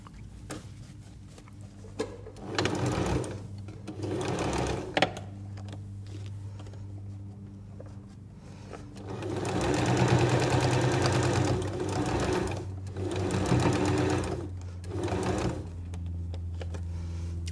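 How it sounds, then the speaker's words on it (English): A sewing machine top stitches along a continuous strip of scrap-fabric bunting, running in several bursts of steady mechanical whirring separated by short pauses, close and fairly loud with no talking. "So I'm just going to top stitch this"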